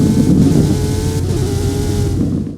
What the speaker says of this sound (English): I mean, the car sounds aren't bad